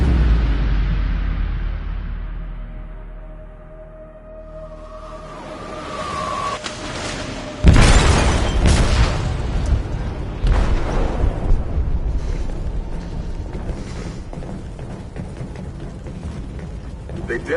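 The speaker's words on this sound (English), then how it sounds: "They detonated an explosive in the hold." A video-game explosive detonating in a ship's hold: a sudden heavy boom and rumbling burst midway, following lower rumble and a rising tone, then sustained crashing debris and noise; voices and music may sit underneath.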